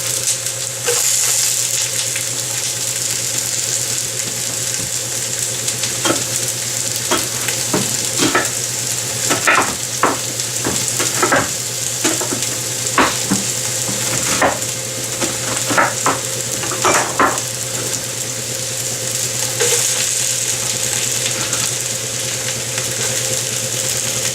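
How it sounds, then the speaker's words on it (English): Onions fry in a little oil in a pot with a steady close sizzle and bursts of stirring scrapes and clanks. A low kitchen fan hum runs underneath throughout. "Okay, so we've got our onions going. We have a little oil in here"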